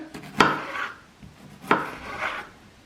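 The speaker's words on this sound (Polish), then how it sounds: "Pomidorka też kroimy na pół. Kroimy go na taką mniejszą kosteczkę." A knife dices a tomato into small cubes on a cutting board, with two sharp chopping knocks about a second apart, each followed by a soft scraping sweep, close and alone.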